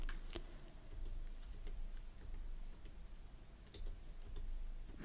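Quiet, irregular clicks of a computer keyboard being typed on, faint and close, with pauses between short flurries over a low background hum.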